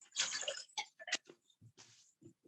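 Water running and splashing as a cocktail shaker or glass is rinsed out between drinks, several bursts of rushing splash and trickle, close and moderately loud, with no talking.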